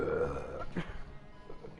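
A short, low, throaty burp from a character in the video game Heavy Rain, close and fairly loud, alone after a brief moment of quiet.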